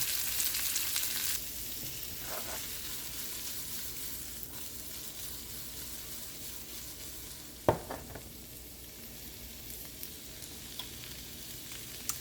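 Tomato sauce fries quietly in a pan with a soft, steady sizzle, louder at the start, while a spoon stirs now and then and one distinct knock of utensil on pan stands out.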